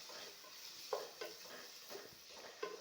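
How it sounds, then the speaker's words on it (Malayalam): Ginger, garlic and shallot paste being stirred into a home-style chicken curry, with a few faint, separate spoon scrapes and soft clinks against the pot over a quiet, low sizzle. "ഇഞ്ചി വെളുത്തുള്ളി കൊച്ചുള്ളി പേസ്റ്റ് ചേർക്കുന്നു നന്നായി ഇളക്കാം"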